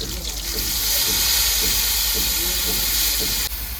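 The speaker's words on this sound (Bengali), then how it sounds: "ফোড়নে দিয়ে দিচ্ছি জিরে, কাঁচা লঙ্কা, দিয়ে দিচ্ছি সর্ষে বাটা, কাঁচা লঙ্কা সর্ষে একসাথে বাটা।" Cumin, green chili and mustard paste sizzling hard in hot oil, a loud, dense hiss filling the whole stretch close up, with faint soft stirring taps underneath and no voice.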